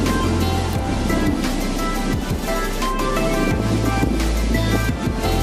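Water rushes and churns while crossing a river, a steady broad wash heard close with wind buffeting the microphone and a low engine-like hum underneath.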